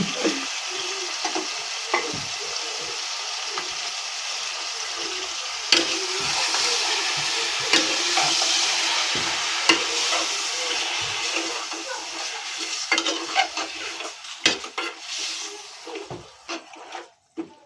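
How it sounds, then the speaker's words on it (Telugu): Chicken pieces fry in oil with a steady, close hissing sizzle, broken by scraping and stirring clatter that grows busier toward the end. "చికెన్ మంచిగా మాగుతుంది. నూనె మంచిగా ఉడకని కొద్దిసేపు ఉడకని మంచిగా."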